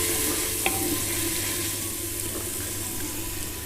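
A chopped ingredient fries with masala in a pan while cooking urad dal, a continuous close sizzle with a few soft stirring scrapes and one small clink, no voices.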